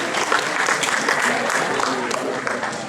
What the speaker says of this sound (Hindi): तो एक बार जोरदार तालियां हो जाए दिव्यांशी के लिए।